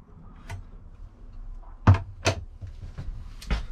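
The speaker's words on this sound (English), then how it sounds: "Got a little medicine cabinet here, figure out how to open it." A small medicine cabinet door in the bathroom of a 2021 Lance 1172 double-slide truck camper opens with a few quiet clicks and latch knocks, soft handling thumps between them in a hushed interior.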